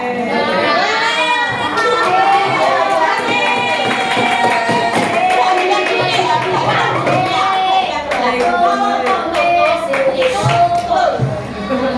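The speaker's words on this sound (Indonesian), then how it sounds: "Tepuk tangan." Schoolchildren in a classroom clap together during a teaching lesson, a steady patter of small hands mixed with lively young voices chattering and calling out throughout.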